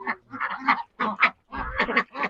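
Ducks in a village yard quacking close by in quick clustered bursts, several loud calls in a row with short pauses between.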